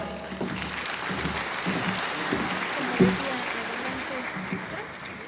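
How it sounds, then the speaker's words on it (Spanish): Audience applause at a Spanish-language health talk on cardiovascular risk factors, a steady wash of clapping filling the room for about five seconds, with some voices mixed underneath. "vamos a recibirlo con un aplauso nuevamente"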